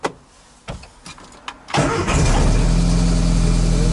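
After a few short cranking bursts, a car engine catches on choke and runs into a loud, steady idle close by.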